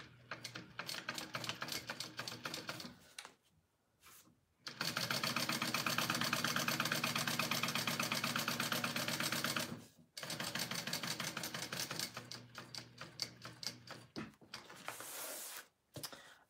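A sewing machine stitches around a rectangle of fabric for a Harlequin tote with a shortened stitch length, giving a steady, close mechanical whir in long continuous runs broken by short pauses.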